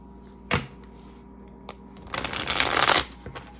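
A deck of cards being shuffled: a riffle of papery flutter lasting about a second, preceded by a couple of soft taps as the cards are handled close by.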